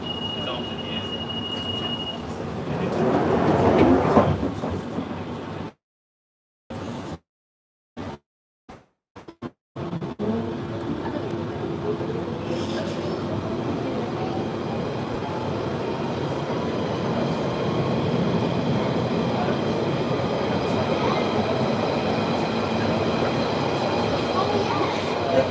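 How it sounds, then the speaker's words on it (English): A London Underground Central Line train running, a steady loud rumble with a brief run of abrupt dropouts partway through, then a sustained rising whine as it continues along the line. "This is a Central Line train to Northolt."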